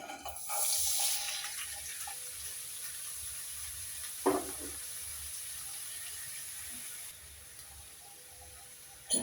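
Chopped onion, carrot, cauliflower and beans drop into hot oil with a sudden loud hiss that settles into a steady sizzle, with a sharp knock partway through and a softer sizzle toward the end.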